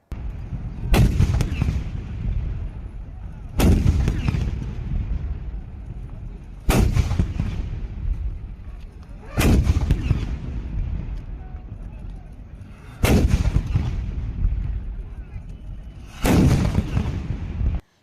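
Cannon shells are fired in front of elephants in Mysuru to train them for the Jamboo Savari procession. There are six heavy booms at steady intervals, each followed by a long rolling rumble.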